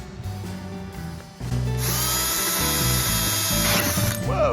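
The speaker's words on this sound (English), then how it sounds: "drilling through just far enough so the pilot bit shows me where it is" A power drill fitted with a pilot bit bores holes through a plate for sensory tile panels, starting with quiet handling and then a loud, steady motor whine that holds to the end.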